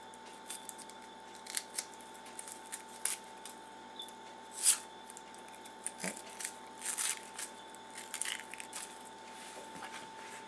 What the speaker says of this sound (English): So I just start cutting, and then you'll see the skin kind of comes away as you cut it.